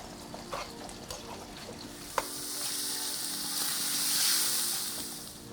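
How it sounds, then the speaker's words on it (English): Skirt steak seasoned with salt sizzles in a hot pan, a steady frying hiss that swells louder toward the end, with a sharp clink of a utensil partway through and no talking. "we're gonna start cooking our skirt steak with a little bit of salt"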